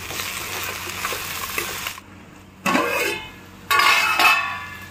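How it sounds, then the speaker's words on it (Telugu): Okra and onion pieces fry in a pan with a steady sizzle, broken by louder bursts of scraping and sizzling as they are stirred, heard up close with no talking. "బెండకాయ ముక్కల్ని మధ్యలో కలుపుకుంటూ ఉండాలండి, లేకపోతే అడిగిన ఉల్లిపాయ ముక్కలు మాడిపోతాయి"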